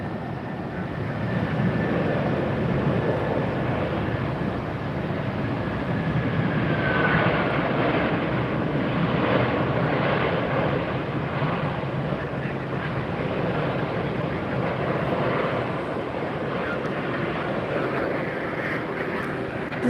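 Discover Airlines Airbus A330-200 arriving at Tampa airport from Frankfurt, a steady distant jet engine roar rising slightly mid-way and holding as a continuous rumble, without talk.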